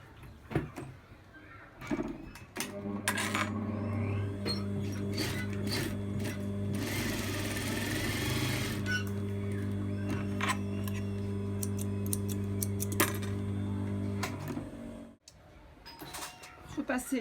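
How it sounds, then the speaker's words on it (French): A sewing machine stitches the ends of a skirt waistband, a steady close whirring run lasting about twelve seconds, framed by handling clatter and a brief voice. "Coudre les extrémités."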